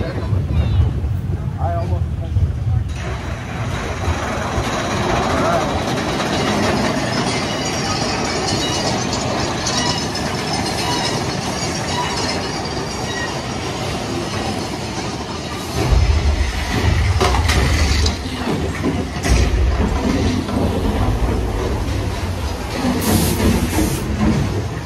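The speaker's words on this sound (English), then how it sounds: "Here comes the Disneyland Railroad." The Disneyland Railroad train rumbles past with low mechanical rolling and hissing, growing heavier partway through, while people talk over the steady park ambience.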